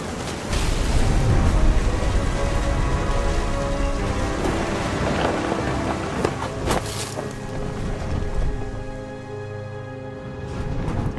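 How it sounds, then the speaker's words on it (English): Rumbling thunder in a stormy scene from the video game What Remains of Edith Finch, a low continuous roll layered over steady rain and sea-like wash, loud and close throughout with a few sharper cracks. "The thunder sounded much too close and full of angry power"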